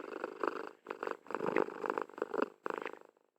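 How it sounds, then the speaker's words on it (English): A domestic cat lying in a person's lap makes a close, steady run of rumbling sound in repeated bursts that fade out near the end, with no talking over it. "I have a cat in my lap, and she's purring and very adamant."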